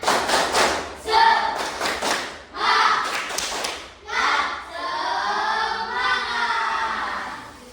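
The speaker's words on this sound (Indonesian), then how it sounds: "kita tepuk semangat dulu ya" A primary classroom of children does a rhythmic clapping cheer led by their teacher, bursts of claps and taps in short patterned groups mixed with chanted voices, ending in a long sustained group shout.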